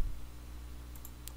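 A computer mouse double click, with a couple of quick, light clicks close together near the end over a low background hum.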